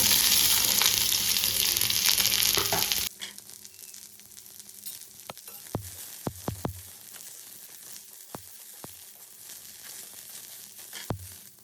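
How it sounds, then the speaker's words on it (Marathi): Sliced onions fry for a Satara-style mutton curry, a loud steady sizzle filling the first few seconds before it drops away, followed by quieter scattered clicks and taps from the pan and utensils. "आता याच्यामध्ये आपण हा उभा चिरलेला कांदा भाजून घेऊया."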